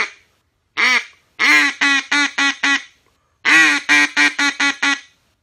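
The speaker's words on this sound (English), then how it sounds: "And then single quack or a string of quacks." A Duck Commander Inferno duck call quacks loudly and nearby: a single quack, then a descending string of raspy quacks, a pause, and another fast run.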